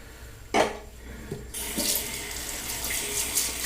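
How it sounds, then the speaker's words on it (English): A kitchen or bathroom tap is turned on for a cold-water rinse after a shave, its water gushing steadily and close after a few brief knocks and clatters. "then do a nice cold water rinse"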